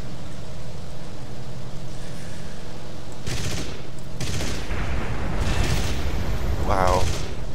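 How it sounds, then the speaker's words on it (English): Aircraft gunfire during a War Thunder dogfight: brief bursts of shooting break through a steady engine drone, and a voice talks over part of it. "Someone else is shooting at him."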